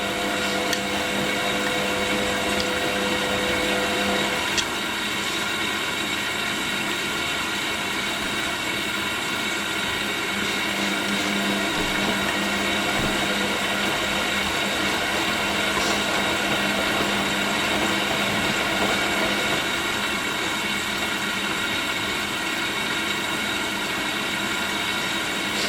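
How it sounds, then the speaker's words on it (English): An Indesit IWC6125 washing machine runs an intensive tumble and deep rinse on a 90°C cotton cycle with extra rinse, a steady, continuous mechanical whir and hum that stays constant and close, with no voices. "now we've gone to the intensive tumble, but this will do a deep level rinse"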